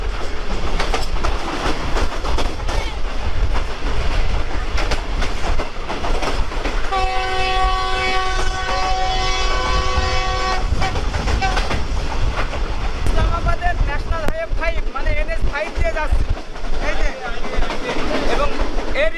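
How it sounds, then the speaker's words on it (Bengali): A Green Line Express passenger train in Pakistan rolls along the rails with steady rumble and clatter, a long horn blast sounding midway and voices talking over the noise. "গ্রিন লাইন এক্সপ্রেস ট্রেনের 103 স্পিডে যাচ্ছে"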